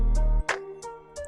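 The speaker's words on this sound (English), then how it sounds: "And then there's your bass." A low synth bass line in a song tutorial for an instrumental, droning deep and loud for a moment before dropping out, with lighter synth notes and clicks following.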